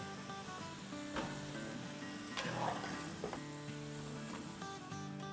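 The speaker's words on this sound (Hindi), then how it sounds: "अब अपना दूसरा बैच भी हम फ्राई कर लेंगे इसी तरह से 7 से 8 मिनट के लिए" Potatoes frying in hot oil for a second batch, a steady low sizzle with a few brief stirring clatters.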